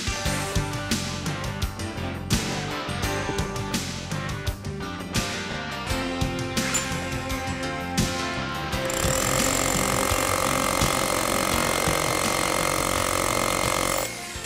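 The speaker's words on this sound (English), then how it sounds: "So I'll drill a hole first, quickly pop the bit out" A loud rotary hammer drill hammers in rapid, rattling bursts, then settles into a continuous grinding roar as it bores a hole.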